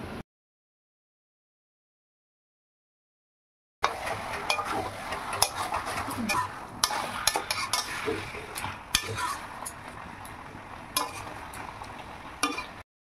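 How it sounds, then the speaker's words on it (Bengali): Marinated mutton pieces are stirred and fried in spiced oil for a railway mutton curry, with a low sizzle and frequent metal spoon scrapes and clinks against the pan, close and without talk, after several seconds of silence. "তারপর মশলা থেকে তেল ছেড়ে দিলে ওর মধ্যে ম্যারিনেট করে রাখা মাটনের টুকরোগুলো দিয়ে খুব ভালো করে কষাতে হবে।"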